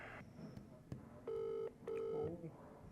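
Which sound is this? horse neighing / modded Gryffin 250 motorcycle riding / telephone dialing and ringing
telephone dialing and ringing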